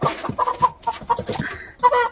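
Red hens in a village yard cluck in short, uneven bursts at close range, with a brief higher squawk near the end and no talk over them.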